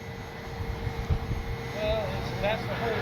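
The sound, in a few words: FMS Cessna 182 RC model plane flying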